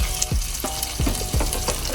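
Brinjal sautéing in oil on a high flame: a dense, crackling sizzle with quick scraping stirs of a spatula, close and continuous.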